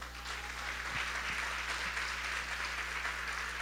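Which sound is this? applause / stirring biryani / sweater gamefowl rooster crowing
applause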